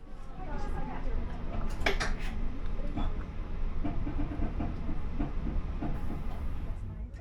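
A RegioJet night train rumbles and hisses steadily departing Prague main station, with scattered metallic clinks and rattles, as if rolling out at low speed; faint voices appear under the noise.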